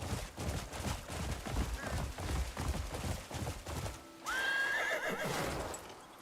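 Hooves clip-clop in a steady galloping rhythm as a video game horse runs, and a bright, drawn-out whinny cuts in near the end. No one speaks.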